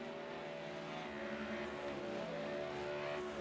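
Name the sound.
Ford Mustang GT3 race cars battling, sim racing video game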